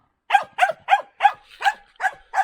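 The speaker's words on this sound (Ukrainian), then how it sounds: "Пес злий." A dog at a rural village house barks seven times in a steady, evenly spaced series, each bark sharp and fairly close, with no talking.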